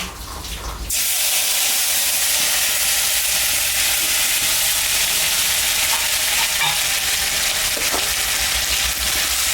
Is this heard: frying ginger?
yes